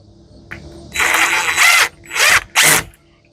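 A power drill drives short flat painted screws into a storm door. Several loud, close bursts of whirring are separated by brief pauses, with the last two runs short and sharp, and no talking.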